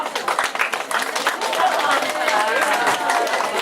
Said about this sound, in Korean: 팀장 박수 한 번더 부탁드립니다